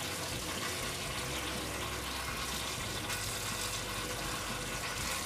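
A sink fills with water from a tap, a steady, quiet rushing hiss of running water that continues without pause throughout.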